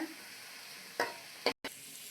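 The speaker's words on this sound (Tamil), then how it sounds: "நல்லா வதக்கிக்கலாம் வெங்காயத்தை." Onion sautéing in a pan gives a soft, steady sizzle, interrupted by a few brief scraping stirs of a spatula.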